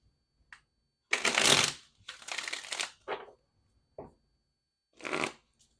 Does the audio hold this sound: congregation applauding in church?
no